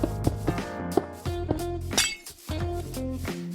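Glass blocks are placed one after another in Minecraft, each marked by a bright clink over game music with a steady tonal backdrop.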